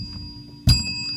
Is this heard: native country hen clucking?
no